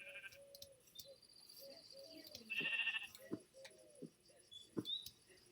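Several wavering sheep bleats in Minecraft, one after another at an even moderate level, mixed with small chirpy game sounds and no talking.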